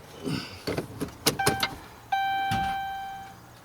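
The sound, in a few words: car fuel pump powering up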